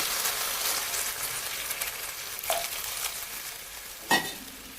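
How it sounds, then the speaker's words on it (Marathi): Warm water added to a sizzling pan of roasted ingredients for Maharashtrian sanja, with a constant frying hiss and two brief, sharper bursts as the water hits the hot pan. "त्यामध्ये मी आता हे थोडं गरम करून ठेवलेलं पाणी आहे ते अंदाजेच टाकणार आहे"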